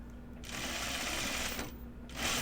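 A sewing machine stitches through thick fabric, a close steady mechanical whir running in two bursts with a brief pause between them.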